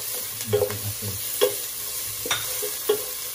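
A big batch of onions fries in a pan for spaghetti, giving a steady sizzle while a utensil stirs and scrapes in several short strokes, close and clear with no voices.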